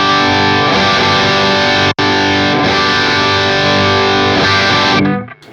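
Distorted electric guitar through a REVV Dynamis pedal with the reverb switched off, chugging steadily and loud with a brief cut near the two-second mark, then stopping abruptly near the end to leave a short, dry decay.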